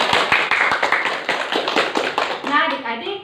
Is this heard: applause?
yes